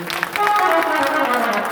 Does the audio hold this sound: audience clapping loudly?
yes